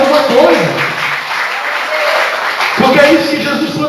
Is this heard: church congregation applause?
yes